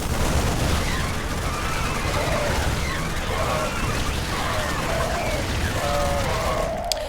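Stimmed Marines open fire on Zerglings in StarCraft, producing a steady, loud rattle of rapid gunfire with bursts and pops layered over the melee.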